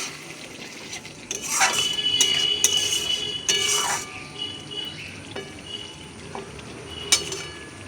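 Spice masala for vegetarian ghugni fried and stirred in a pan: a quiet sizzle with several bursts of metal spatula scraping and clinking, close by and without talk.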